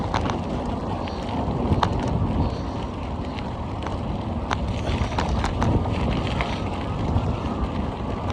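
Strong wind buffeting the microphone during an outdoor horse ride down a road, a loud continuous rumble with faint hoof clops underneath and no talk.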